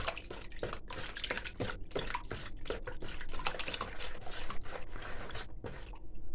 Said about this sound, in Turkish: Şöyle yumurtamı bir çırpayım.